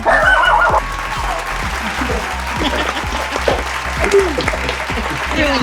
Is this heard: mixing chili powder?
no